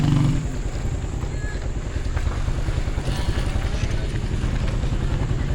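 A Honda motorcycle engine runs in Côte d'Ivoire with a steady, loud, rumbling drone that stays constant throughout, close by and without any clear voices on top.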